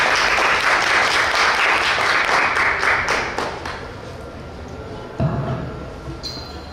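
An audience at a literary horror gathering bursts into loud, dense applause that holds for several seconds, then thins out and fades, with a few scattered claps and a knock near the end.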